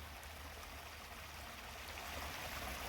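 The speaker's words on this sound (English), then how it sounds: "And we got a nice little waterfall" A small waterfall pours steadily into a pool along a stream, a continuous soft rushing and trickling heard from nearby with no voices.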